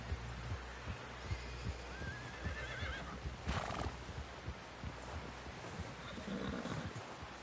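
A horse whinnies in a rising neigh while hooves clip-clop in a steady rhythm through a busy, noisy outdoor scene, with a brief rough burst partway through; no voices over it.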